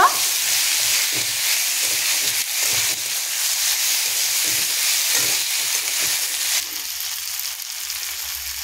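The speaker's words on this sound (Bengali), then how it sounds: "দিয়ে এটাকে ভালো করে নাড়াচাড়া করে নেব" Cumin and coriander powder stirred and frying in a pan, a loud continuous close sizzle with soft scraping strokes through it, easing slightly near the end, no voices.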